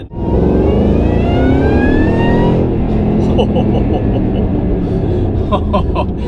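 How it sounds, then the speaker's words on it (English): A modified 663 wheel-horsepower supercharged Shelby GT500 revving hard with a rising supercharger whine, then its exhaust roaring as it shifts, loud and close. "That exhaust sounds incredible."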